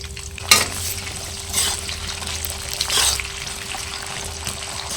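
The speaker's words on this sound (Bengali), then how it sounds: "মাছ ভাজা তেলের মধ্যে সবজিগুলো দিয়ে একে একে ভেজে তুলে নেব।" Vegetables frying in oil left from frying fish, a steady close sizzle with a few louder crackling bursts as pieces are added and stirred.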